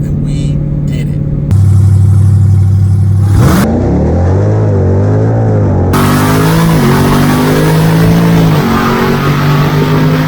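A supercharged Jeep Trackhawk engine revs loud and close, climbing through sustained pulls with rising and falling pitch as it accelerates hard, continuous and dominant with no talk over it.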